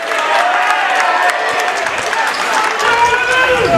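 A crowd at a high school varsity boys' basketball game cheers and applauds, a loud, dense wash of noise that holds steady throughout, with a commentator talking over it.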